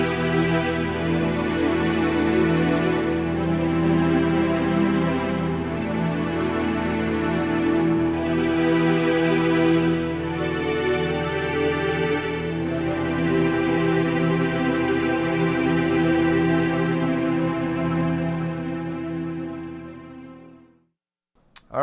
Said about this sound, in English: here's some really rich, big, and fat strings